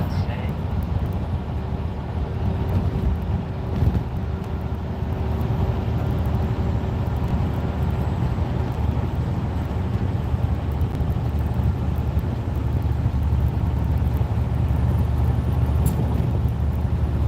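Steady loud drone of a car with a Vibrant performance exhaust, a deep continuous rumble like a race car, sustained throughout at even level with faint talk beneath.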